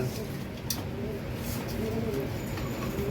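Racing pigeons coo in a loft during preparation for a derby race, low soft cooing under a continuous noisy background while someone talks over it.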